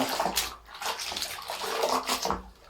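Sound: rinsing a knitted shawl in a basin of water

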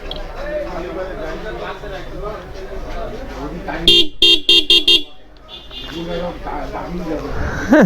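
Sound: motorcycle horn honking

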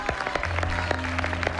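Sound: applause

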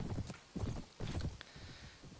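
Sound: horse in the video game Mount & Blade: Warband

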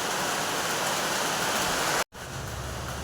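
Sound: rain falling

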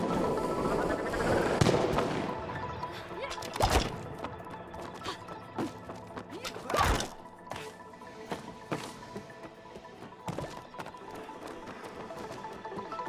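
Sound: rockets exploding in video game It Takes Two

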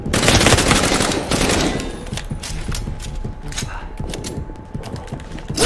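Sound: gunfire in the video game Resident Evil Re:Verse

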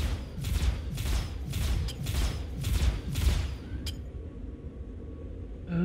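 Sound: ship gunfire in video game Star Citizen

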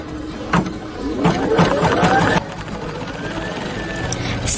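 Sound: embroidery sewing machine stitching felt and fabric

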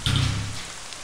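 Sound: rain falling in the video game Ib

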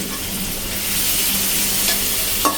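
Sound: stirring ginger garlic paste frying in a pan

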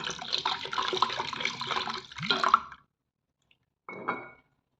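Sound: water being poured into bowl

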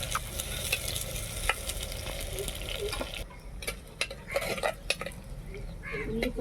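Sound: frying onion pieces for fish curry

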